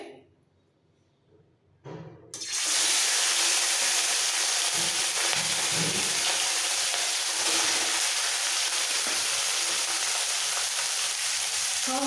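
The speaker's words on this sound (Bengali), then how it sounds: "এবার গ্যাসটা কম করে এই ছোট মাছগুলোকে ভেজে নিতে হবে" Small morola fish frying in hot oil over lowered gas flame: after a second or two of near silence, a loud, steady, close sizzle bursts in and continues unbroken to the end.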